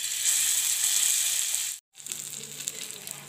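Chickpea chutney hitting hot oil on a griddle, a bright steady sizzle that cuts out briefly, then resumes more softly with light crackling, no speech.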